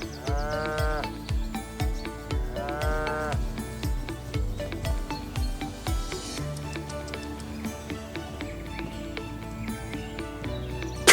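Nelore cattle in the Pantanal give long lowing moos over a steady ticking rhythm and background music, with animal calls in the middle distance.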